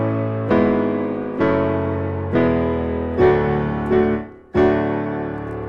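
Piano plays the post-chorus instrumental of a song, five struck chords or octaves a little under a second apart, each ringing and fading before the next, with no voice.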